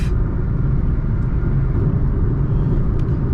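Steady, loud low rumble and rush of wind and road noise inside a Toyota Taisor automatic cabin cruising on a highway, unbroken and with no talk.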